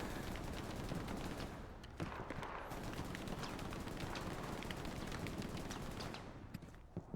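Dense, continuous automatic gunfire rattles through a Hell Let Loose infantry battle, with sharp cracks layered over a steady, somewhat distant roar that lasts throughout and thins out near the end.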